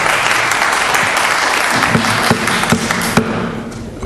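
An audience at a county commissioners meeting claps in a steady, sustained burst of applause. A few sharper, louder claps stand out before it thins slightly toward the end.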